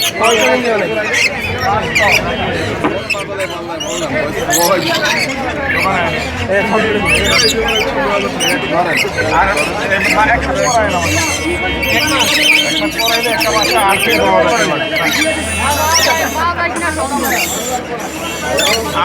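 At a bird market, many caged birds keep up a dense, loud, close chorus of squawks and chattering calls, while someone talks over them throughout.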